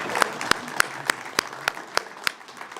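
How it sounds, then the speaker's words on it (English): Applause after a presentation at an amateur radio club meeting comes as clear, evenly spaced claps in a steady rhythm, close and distinct over a soft room murmur of a small audience. "Let's give Scott another round of applause."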